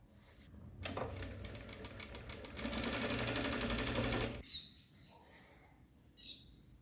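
A straight-stitch sewing machine runs a gathering seam through fabric for a child's dress, giving a fast mechanical patter that speeds into a steady loud whir for a few seconds before stopping, with quiet handling noise afterward.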